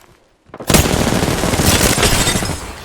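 Sustained automatic gunfire in the Apex Legends video game bursts in loudly after a brief quiet moment, continuing as a dense, rapid stream of shots close to the listener until the end.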